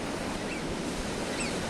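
Sea waves washing against the rocky shore of a seabird island, a continuous broad hiss of surf with some wind, steady and close with no distinct breaks.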